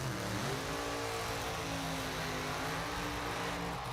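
A supercharged Top Alcohol Dragster engine roars at a drag strip with a dense, high-revving drone. Strong harmonic bands hold steady and loud for a few seconds.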